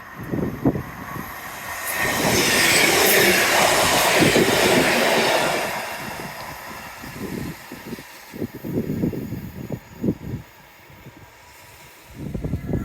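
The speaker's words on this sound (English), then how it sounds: "Hey, train." A train passes close by, its rumble swelling to a loud roar for a few seconds and then fading into rattling clatter and bumps as the wagons roll away.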